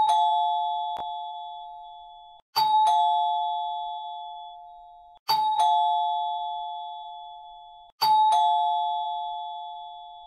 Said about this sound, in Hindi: डोरबेल के बजने की आवाज मेरे कानों में पड़नी शुरू हो गई।